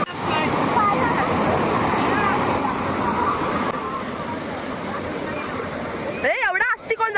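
Water pours and splashes onto people during an outdoor family trip, a loud continuous rushing spatter that fills most of the moment before voices break in at the end.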